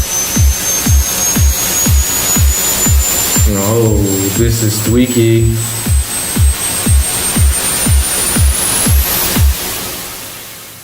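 Synthesized noise riser built from noise and an oscillator, a steady whistling tone sweeping upward and climbing sharply at the end over a pulsing rhythmic beat, with a brief spoken remark in the middle.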